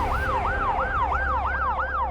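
Police and ambulance sirens outside, a rising and falling wail cycling about every quarter second, loud and steady over low traffic rumble with no talk.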